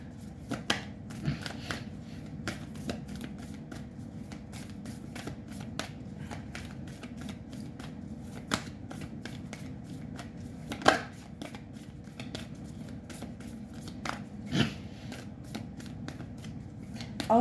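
Oracle cards are shuffled in a tarot reading, giving quiet papery riffles and soft slaps spaced irregularly over a low background hiss, close and faint.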